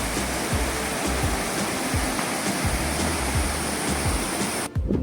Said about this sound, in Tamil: எவ்வளோ தண்ணி பாருங்கள் அழகாக போயிட்டு